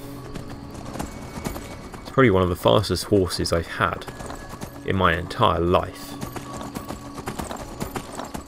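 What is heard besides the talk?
horse hooves galloping in Skyrim, a video game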